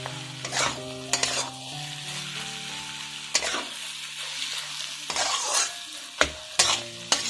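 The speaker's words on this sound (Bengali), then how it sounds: "ডিমটা ভালো করে গাজরের সঙ্গে মিশিয়ে নিতে হবে।" Egg being stirred with carrots in a frying pan, spatula scrapes and clacks recurring every second or so over a steady low sizzle and hum, close and fairly quiet with no voices.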